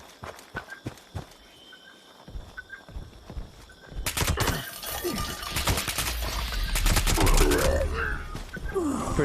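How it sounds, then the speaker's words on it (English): Rifle fire in Fallout 76 crackles as a few scattered, spaced shots, then breaks into dense, rapid volleys of gunfire mixed with clattering and rumbling. "I love that they can't hear the sound of this rifle"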